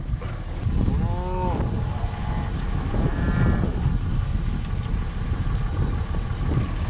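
Cattle moo several times, drawn-out calls from different animals, over a constant low rumble of wind and distant engine noise.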